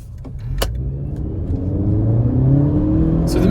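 A Honda Civic GT with a 1.5 VTEC turbo engine accelerates in sport mode, its engine note climbing steadily in pitch and loudness as the revs build, heard from inside the cabin.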